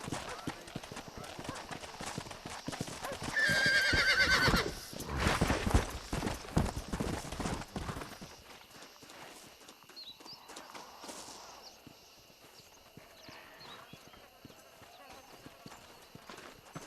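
A horse gallops with rapid clip-clop hoofbeats in the Western video game Red Dead Redemption, loud and driving for the first eight seconds, then fading into quieter ambience as a voice speaks over it.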